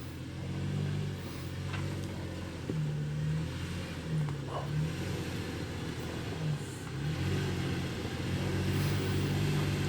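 A Toyota 4Runner with basically two-wheel drive, one front and one rear, climbs a rough Ozarks off-road trail, its engine droning low and steady with repeated rises in revs and no talk.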